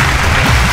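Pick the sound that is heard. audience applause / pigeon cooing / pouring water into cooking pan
audience applause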